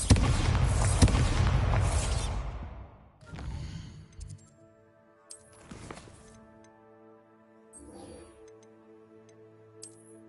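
A Bombarda spell explosion from Hogwarts Legacy bursts loudly at the start and rumbles away over about three seconds, followed by lighter magical sparkles and chimes that pop up a few more times over a humming game background.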